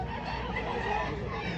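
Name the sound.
gamefowl rooster clucking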